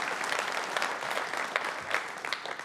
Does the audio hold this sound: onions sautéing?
no